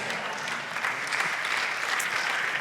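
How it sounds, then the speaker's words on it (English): A church congregation applauding, a steady dense wash of many hands clapping at even volume with no voices over it. "Oh, y'all stopped clapping."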